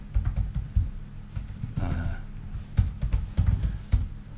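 Typing on a computer keyboard while text is entered into a box on a template page: irregular bursts of soft, close keystroke clicks with brief pauses between them, no talk.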